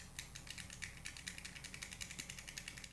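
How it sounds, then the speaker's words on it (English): Rapid, faint metallic rattling from play in the lid and track of an 01 EDC slider fidget toy, a steady chain of small clicks repeating for a few seconds, close up and with no talking. "There is play inside the lid and the track."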